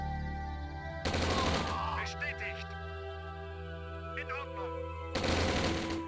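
Two sharp bursts of rapid machine-gun fire in Command & Conquer Red Alert, separated by a few seconds of quieter game sounds and brief clicks, with a low hum underneath.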